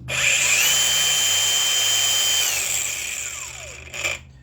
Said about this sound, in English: So when we're cutting with the grinder here, we need to be aware of the rotation of the disc.